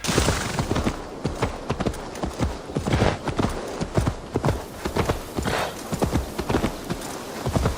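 Horse hooves gallop in a PS4/PS5 video game, a close, loud, rapid clip-clop beat running continuously throughout with no talk over it.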